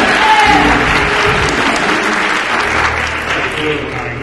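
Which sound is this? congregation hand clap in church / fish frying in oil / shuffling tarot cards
congregation hand clap in church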